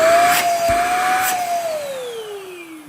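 A SOWTECH corded stick vacuum cleaner with 20Kpa suction and HEPA filtration runs close by with a steady whirring whine whose pitch sags gradually as it works, loud and alone.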